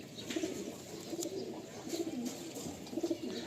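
Pigeon coos, soft and rhythmic, come in several short bursts from a restless bird being held in the hand close by, with faint rustling between them.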